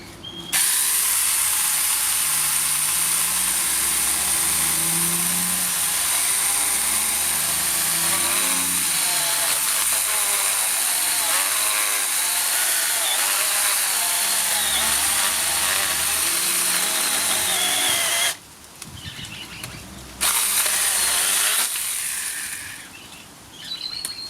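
A small 18V Banggood battery chainsaw cuts through a log lying in a garden, a loud, steady buzzing drone with grinding, chattering texture that lasts most of the clip, then briefly drops out and starts again near the end.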